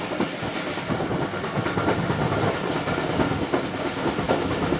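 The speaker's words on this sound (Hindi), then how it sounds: "डेरा नवाब साहब रेलवे स्टेशन पास हो रही है ट्रेन" A passenger train clatters steadily past Dera Nawab Sahib railway station in the early morning, with loud continuous wheel rumble and rhythmic clickety-clack from the rails throughout, no voices.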